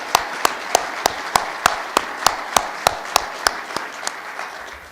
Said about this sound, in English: If we could give all of them a big round of applause